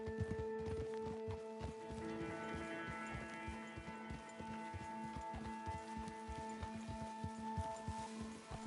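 Horses' hooves clopping at a walk through steady rain in the western video game Red Dead Redemption 2, a quiet rhythmic beat over a constant rainfall hiss and a low musical drone.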